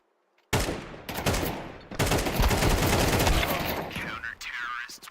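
Sustained automatic gunfire in Counter-Strike 2, a sudden loud burst after half a second, then a longer rattling fusillade that fades near the end, close and dominant, with a little talking underneath.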